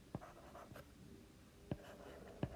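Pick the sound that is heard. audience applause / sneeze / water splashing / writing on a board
writing on a board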